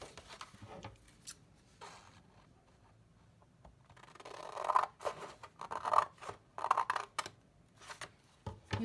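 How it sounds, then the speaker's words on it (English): Scissors snip through paper card along a centre line, with quiet paper rustling and handling before a run of close, crisp cutting strokes in uneven rhythm. "now we're going to cut along this centre line to the middle point"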